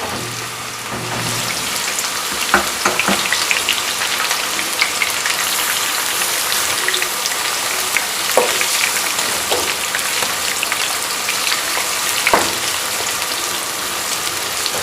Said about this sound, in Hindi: ऑयल गर्म हो गया, प्याज इसमें डालते हैं।